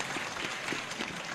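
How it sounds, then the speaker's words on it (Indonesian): Faint audience applause at a religious lecture's question-and-answer session, a soft, even patter of clapping sounding distant for just over a second. "Tepuk tangan untuk beliau"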